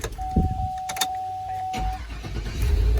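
A Chevrolet Tahoe with a suspected electrical ground fault is cranked, its starter churning briefly in the middle and again at the end. A steady warning chime tone sounds across the first two seconds, with some clicks.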